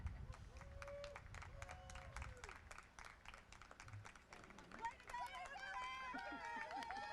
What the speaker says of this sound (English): These are our faculty members you may hear cheering on their students.